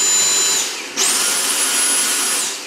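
A Dyson V6 cordless vacuum cleaner whines loudly and steadily, then ramps up to max power with a rising high-pitched motor whir that holds constant before easing slightly at the end.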